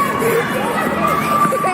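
Crowd of children shouting and chattering at a trampoline park, a steady dense din of overlapping young voices at close range with no single voice standing out.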